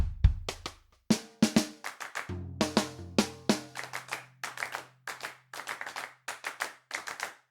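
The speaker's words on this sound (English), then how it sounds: "I like the clap, actually, it sounds realistic." Sampled drum-kit handclaps from Cubase Groove Agent play as sharp, close claps in a loose rhythmic pattern, interleaved with electronic drum hits and a low sustained bass tone.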